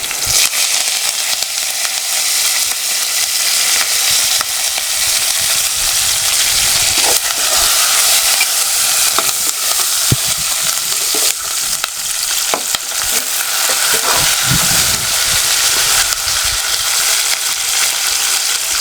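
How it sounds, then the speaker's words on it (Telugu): Curry leaves crackle and sizzle loudly in hot oil in a pan for a village-style broad bean and tomato curry, a bright continuous fry with scattered stirring scrapes and pops, close with no talk. "కొంచెం కరివేపాకు"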